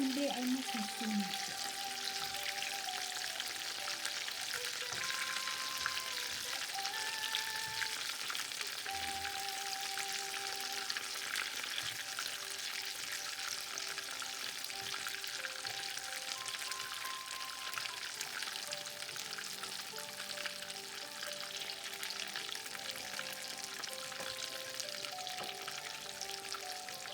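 Mushroom nuggets deep frying in hot oil, a steady close crackling sizzle running throughout with faint tonal hums in the background.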